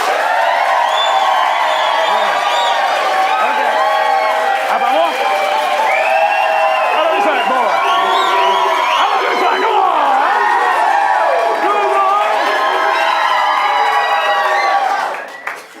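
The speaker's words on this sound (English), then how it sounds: "So I want to hear just like the best applause you can." A live audience at a main stage show bursts into loud, sustained applause mixed with cheering, whoops and shouting, filling the space continuously before cutting off at the end.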